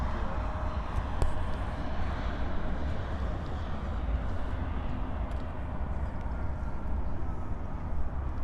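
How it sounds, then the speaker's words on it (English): An Airbus A320 taxis into its stand at Munich Airport in the evening, a steady distant jet engine rumble and hum holding constant throughout amid faint airport background noise. "A320, that one. As it goes into stand or gate."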